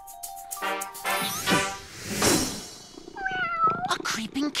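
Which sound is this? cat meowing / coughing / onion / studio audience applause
cat meowing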